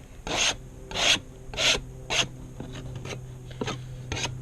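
Scraping debris and mites off a wooden beehive bottom board during a fall hive check, heard as a run of close, rasping strokes at a steady rhythm, strong at first and then lighter and quicker.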